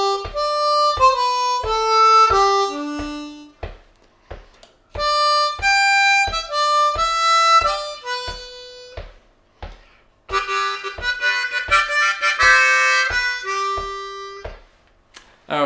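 A G-key harmonica played in first position carries a melody, with clear blow and draw notes in rhythmic phrases and short pauses between lines. It is loud and close, with no voice over it.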